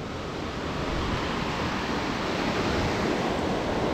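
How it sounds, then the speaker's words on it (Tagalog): The Nambalan River at Calao Eco Park in Tarlac rushes steadily below a treehouse, a dense, continuous roar of flowing water with no pauses. "kitang-kita nyo yung maagos na tubig ng Nambalan River"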